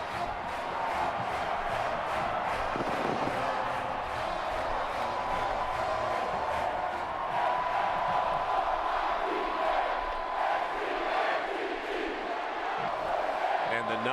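A sellout stadium crowd in Tallahassee roars continuously as the Florida State Seminoles arrive, a broad, sustained wash of cheering and yelling that stays loud and even throughout.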